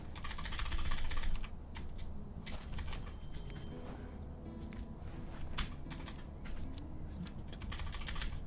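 Rapid keyboard clicks tap out again and again, fairly close and crisp, with dense bursts of keystrokes and short pauses between runs over a steady low background hum.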